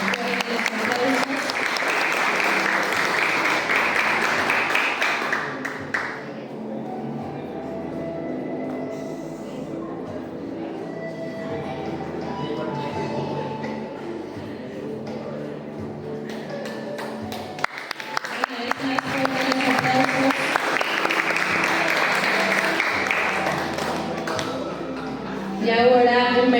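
Loud, close applause for a student at a speech and essay contest, clapping hard for about six seconds, easing into quieter crowd murmur, then swelling again into a second strong burst of clapping.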